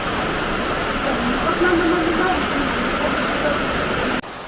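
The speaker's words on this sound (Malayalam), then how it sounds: "ഇങ്ങനത്തെ ശക്തമായ മഴ പെയ്തിട്ട് കുറേ ദിവസമായിരുന്നു" Heavy rain pours down outside a home in a dense, even roar that holds steady for several seconds before cutting abruptly to a quieter wash, with a faint voice murmuring beneath it.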